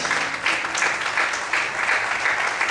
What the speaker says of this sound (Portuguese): Aplaude e exalte a Deus essa manhã, aleluia.